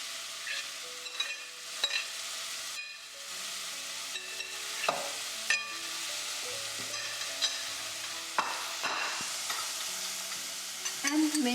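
Spinach and garlic for palak paneer fry and sizzle in a pan, a steady hiss broken by repeated stirring scrapes and clinks, close and fairly quiet with no talk.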